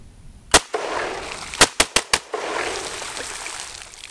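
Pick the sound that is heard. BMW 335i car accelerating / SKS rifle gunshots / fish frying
SKS rifle gunshots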